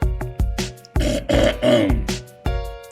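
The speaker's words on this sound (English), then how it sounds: "Let me clear my throat." A man clears his throat loudly and close-up, producing a run of several harsh, voiced, gravelly bursts in quick uneven succession with brief gaps between them, with no other sound around.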